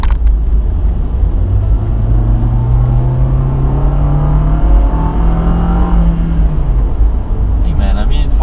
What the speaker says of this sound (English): I'm going to try to accelerate from a low gear and just see how it performs.